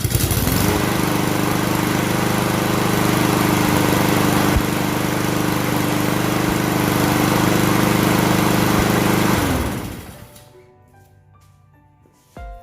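A Troy-Bilt TB240 lawn mower engine runs at a loud, steady drone for about ten seconds, then cuts off and winds down into near silence.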